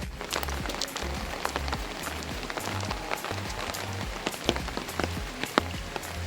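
Rainwater dripping steadily from forest trees in La Mesa Ecopark after a shower has stopped, with dense, irregular patter of drops hitting leaves and the ground, close and continuous.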